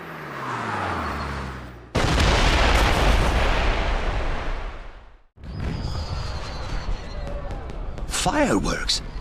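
Loud fireworks burst in a cutscene from James Bond 007: Blood Stone, with a heavy boom followed by rumbling crackle, then further pops and whistling rockets, close and dense with no talking.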